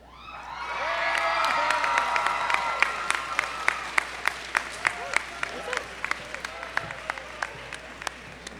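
A large graduation crowd for the Palm Beach Lakes Community High School class of 2021 bursts into sustained applause with cheers and whoops, while loud sharp pops ring out steadily over the clapping.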